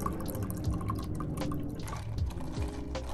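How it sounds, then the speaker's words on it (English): Coffee milk pours into a cup in a steady, close liquid trickle with small dripping splashes throughout. "So I'm gonna pour out some coffee milk."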